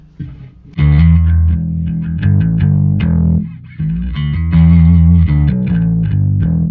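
Gritty, distorted bass guitar through a SansAmp playing a sustained riff of notes and slides, loud and close with no other instruments.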